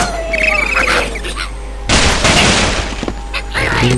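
Ice blocks shatter in the Angry Birds Seasons video game, with a burst of cracking and breaking crashes over faint game sounds.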